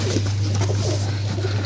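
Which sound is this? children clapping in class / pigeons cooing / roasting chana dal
pigeons cooing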